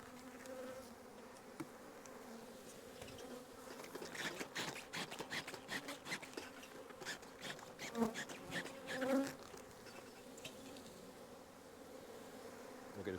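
Honeybees buzz in a dense, constant drone while a beehive is split. The buzzing is close and swells louder midway with a few sharper bursts, and no voices cut in.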